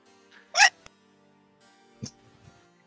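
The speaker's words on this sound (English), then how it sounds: "It was a hiccup." A single sharp hiccup stands out near the start, followed by a few faint clicks and soft sounds in an otherwise quiet room.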